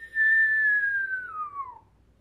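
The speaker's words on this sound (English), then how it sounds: "So we whistle in through the mouth in 3 to 4 seconds." A single whistled inhale through puckered lips during a Kundalini yoga breathing exercise: one clear, loud, sustained tone lasting about a second and a half, sliding gradually downward in pitch as it fades out.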